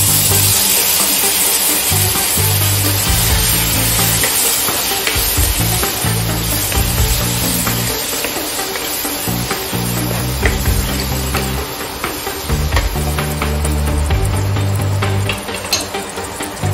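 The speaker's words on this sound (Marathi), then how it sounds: "आता आपण हे हरभरे घालणार आहोत।" Chickpeas dropped into a hot pan for usal, a Marathi-style dish, set off a loud steady sizzle and hiss, with frying crackle and stirring scrapes continuing close by throughout.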